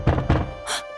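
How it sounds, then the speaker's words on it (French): Two heavy thuds of a fist knocking on a door in quick succession, close and loud, followed by a brief bright clatter. "Quelqu'un frappait avec insistance à la porte."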